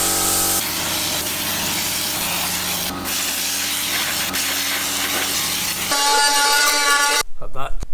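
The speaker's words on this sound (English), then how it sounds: "We've got a sandblaster gun." A sandblaster gun blasts heavy-duty abrasive against the underseal and wheel arches of a Mitsubishi Evo 8, a loud continuous hissing roar with brief changes in pitch, ending abruptly near the close with some rattling.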